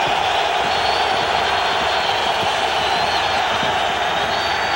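A football stadium crowd at a 2002 Raiders–Titans game roars in a steady, loud, unbroken wash of cheering noise that holds at the same level throughout.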